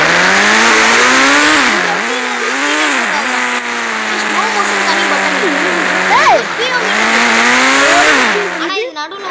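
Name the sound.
Nissan GT-R car driving in a video game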